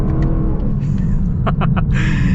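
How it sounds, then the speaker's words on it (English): A loud, close naturally aspirated V8 engine of a 2026 Lexus LC 500 rumbles and revs with a deep, throaty roar, steady throughout. "Gotta love the sound that this naturally aspirated V8 makes."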